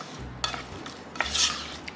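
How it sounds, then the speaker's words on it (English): Chopped garlic is stirred into a hot pan, a spoon scraping and clinking against the metal in a few short strokes over a soft sizzle, close by with no talk. "And then give this a good mix."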